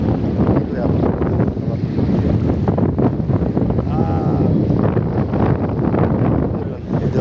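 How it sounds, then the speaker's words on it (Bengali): Strong wind buffets the microphone on a riverbank near Tezpur, a loud, continuous rumbling roar that carries on throughout, with a faint voice under it. "এত পরিমাণ মানে বাতাস।"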